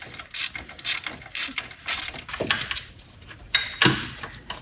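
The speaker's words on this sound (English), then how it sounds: "using a 12 millimeter, we're going to go counterclockwise" 12 mm ratchet loosening a compressor bolt counterclockwise on an RB26DETT engine during AC belt removal; a series of sharp, close ratcheting clicks in quick bursts, alone without talk.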